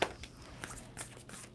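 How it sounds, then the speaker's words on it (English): A deck of tarot cards is shuffled close by during a reading, a few quick, soft riffling bursts spaced across a quiet moment, faint and alone. "Two more shuffles."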